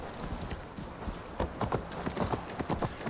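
Horse hooves clip-clopping in the PC game Assassin's Creed Valhalla, a steady run of close, crisp hoof strikes over a constant background wash, growing more pronounced in the second half.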